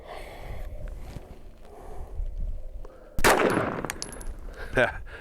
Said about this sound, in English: So now 45 ACP, just some range ammo out of this Glock 30